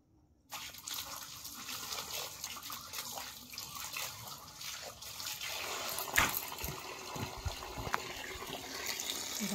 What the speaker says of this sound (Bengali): এবার ধুয়ে নিই, ধুয়ে পরিষ্কার করে তারপরে রান্না করবো।